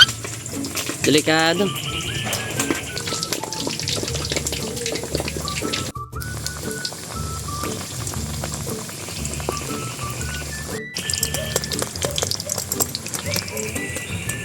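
Pork lechon kawali deep-frying in spattering hot oil, a loud continuous crackle and hiss with sharp pops, heard under speech and music.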